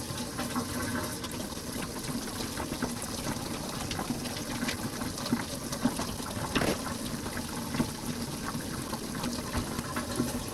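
Water pours steadily into a pot being filled for boiling cracked eggs, a continuous gushing splash that holds at an even level for the whole stretch, with no talking.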